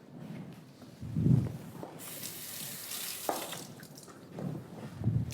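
Fresh chives are rinsed under a running kitchen tap, a soft, close splashing stream that swells midway, with light handling thuds and no speech.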